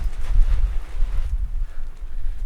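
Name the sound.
wind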